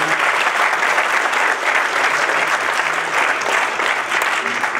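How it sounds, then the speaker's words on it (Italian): Steady, loud audience applause at a local election list presentation in Rivanazzano fills the whole stretch, dense and even without pause. "Quindi io le farei un applauso."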